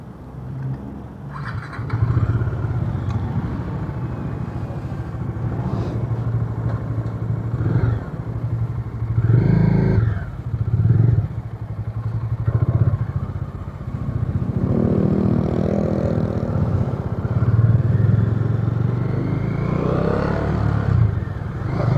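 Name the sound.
motorcycle riding on the expressway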